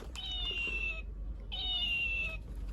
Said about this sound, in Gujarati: અને આ છે બોલતી બિલાડી